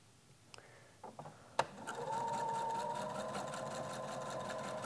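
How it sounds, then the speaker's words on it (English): A sewing machine stitches together a piece of quilt binding. A few light clicks come first, then a close, steady motor whirr runs for about three seconds with no talking. "I'm going to sew this together. I'm just going to piece this part of the binding here."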